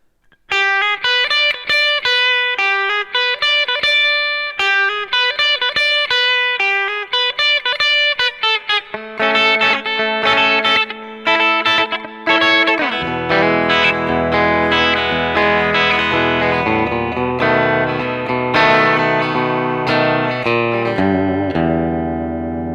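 Country electric guitar solo, with twangy single-note lines played up close and steady. Lower backing parts enter partway through and fill out the sound under the lead.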